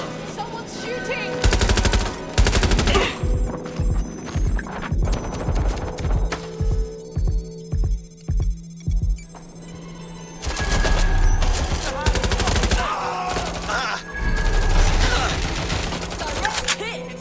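Video game gunfire in Watch Dogs: Legion, with rapid automatic bursts and repeated shots in loud clusters, alongside electronic ringing tones and voices shouting in between.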